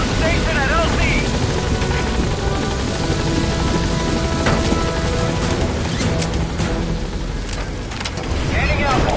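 A helicopter arrives at a landing zone in Metal Gear Solid V: The Phantom Pain, its rotor thudding loud and steady throughout, with a radio voice talking over it.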